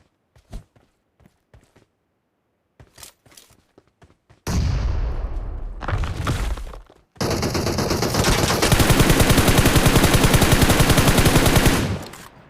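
Gunfire in a video game shooter: scattered single shots and short bursts, then long sustained automatic fire, loud and close, with no talk over it.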